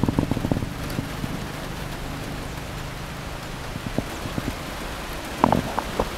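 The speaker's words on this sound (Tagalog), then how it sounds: "ang lakas na ng ulan" Rain falls steadily in a continuous hiss, with scattered sharper drops and taps on a nearby surface.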